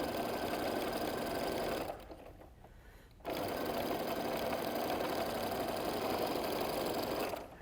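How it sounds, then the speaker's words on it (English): A sewing machine stitches a quarter-inch seam on quilt fabric, running in a fast, even whir, pausing briefly for about a second, then resuming at the same steady pace. "Let's sew that 1/4 inch seam."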